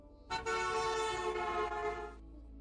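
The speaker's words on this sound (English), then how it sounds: "The horn to you might sound something like this." A sustained car horn blast, loud and close, whose pitch drops as it passes by, lasting about two seconds.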